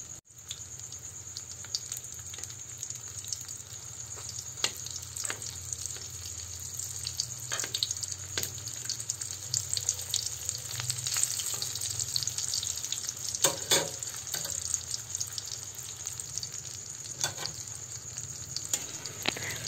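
Dynamite lumpia frying in hot oil as the rolls are flipped to cook the other side, a steady crackling sizzle with occasional sharper pops, continuous and close.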